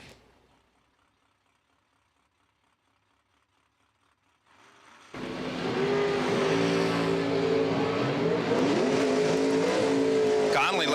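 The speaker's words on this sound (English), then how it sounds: "In the super controlled yet long wheelie about to happen for the Chevy 2 wagon in the right lane." Chevy II wagon launching at a drag strip in the right lane, engine noise bursting in loud after a quiet opening and holding a strong, steady roar to the end, with the commentator's voice running over it.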